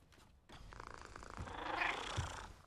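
Cats from the cat plates in a Harry Potter film, heard as a low rumbling purr-like texture with faint mewing tones, rising gradually in loudness and close in the mix.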